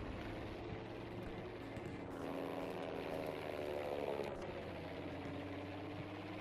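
Fighter plane flying in the video game Battlefield V, a steady droning engine roar that swells slightly midway and holds throughout, with no talk.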